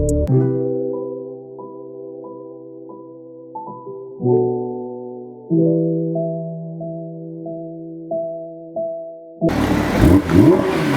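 A K-swapped Honda Integra Type R revs hard through several rising gear pulls, each upshift dropping the pitch, before a burst of loud wind and road roar takes over near the end.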